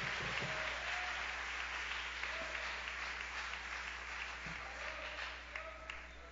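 A church congregation at an evangelistic vigil claps steadily throughout, a dense wash of applause from a crowd in a hall, with faint voices underneath.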